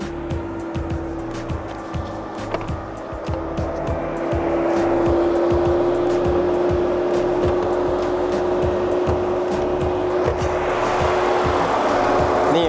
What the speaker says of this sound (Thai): เดี๋ยวผมให้ไปฟังเสียงเครื่องยนต์ด้านนอกกันดูดีกว่านะครับ